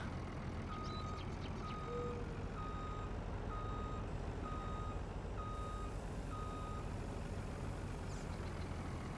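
Truck reversing alarm in Farming Simulator 19 on the Ravenport map, beeping in a steady regular series of evenly spaced tones over a constant low engine rumble.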